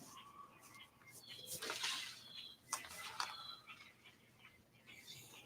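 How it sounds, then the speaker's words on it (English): A loud bird calls repeatedly in the background, sharp chirps and whistles rising over a faint room hum with no talking. "God, that bird cannot be any louder."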